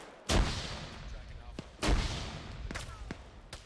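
Two heavy booming blasts of frag grenades and scattered gunshots ring out in a military video game squad battle, the explosions roughly a second and a half apart with sharp single cracks between and after.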